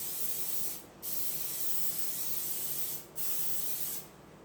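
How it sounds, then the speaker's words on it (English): Butter-flavored Pam cooking spray hisses into a skillet in three steady bursts, each about a second or more long, with brief pauses between, close and fairly loud with no talking. "spray in my skillet butter flavored Pam or generic Pam, any brand, doesn't matter"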